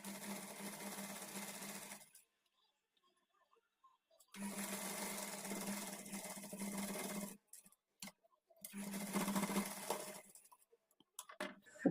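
A sewing machine stitches a blouse in three separate bursts of steady rapid needle chatter, broken by short silent pauses and a few light clicks.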